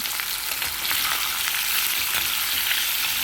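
Ivy gourd (tindora) pieces frying in oil in a kadai for a masala curry, giving a loud, dense, continuous sizzle with no pauses or voices.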